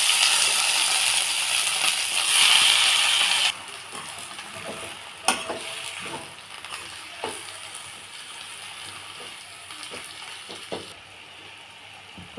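Gongura leaves tossed into hot oil with turmeric in a kadai give a loud, steady sizzle that drops sharply after a few seconds, then settles into a softer fry with scattered clinks and scrapes of stirring.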